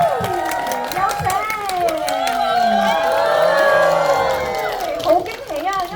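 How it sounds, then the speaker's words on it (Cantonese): A cinema audience at a Father's Day preview screening of the film 無名指 cheers and claps as Aaron Kwok and the cast walk in. Excited shrieks and whoops ride over the applause, with an emcee talking among them. "俾個掌聲歡迎兩位入場"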